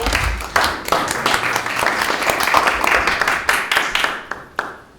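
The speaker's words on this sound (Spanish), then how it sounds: "Vamos a darle un aplauso por favor a ambos." Audience applause for guests at a film talk on movies that inspired Star Wars, a dense burst of many hands clapping close by that fades toward the end.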